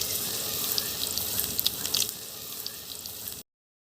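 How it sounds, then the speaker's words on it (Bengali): Vegetable pakoras sizzle in hot oil in a wok, a steady close hiss speckled with small crackling pops that stops abruptly. "এদিকে দেখুন বন্ধুরা, কড়ার তেলটা খুব ভালোভাবে গরম হয়ে গেছে। এখন আমি একে একে এর মধ্যে পাকোড়াগুলোকে ছেড়ে দিচ্ছি।"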